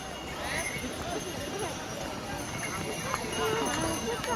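Horses and mules clip-clop along the Kedarnath pilgrimage trail near Chhoti Linchauli, a busy patter of hooves on stone mixed with crowd bustle while someone speaks over it throughout.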